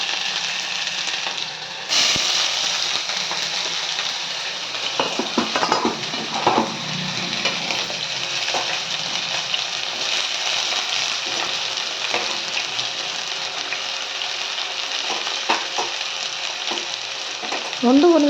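Sliced onions and shahjeera frying in a little oil in a pan for prawn fry and fish curry: a dense continuous sizzle and crackle, close and steady for about eighteen seconds, with occasional utensil clinks and stirring scrapes and no speech.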